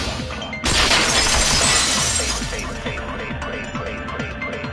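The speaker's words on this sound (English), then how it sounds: "If it wasn't the window, then what broke to make that sound? A vase." A vase smashes in the Danganronpa 2 video game, one sudden loud crash of breaking pottery followed by a long, bright scatter of shards that fades over several seconds.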